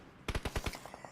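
Rapid automatic gunfire in a PUBG Mobile battle: a burst of about five loud, close shots followed by quieter, more distant echoing pops trailing off.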